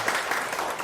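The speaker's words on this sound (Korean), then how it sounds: "과제를 낸 분들한테 미리 시작하기에 앞서서 칭찬의 박수를 제가 막 먼저 칩니다" Brief applause from participants in a writing class, a short burst of many hands clapping together, near and fairly loud, with no talk over it.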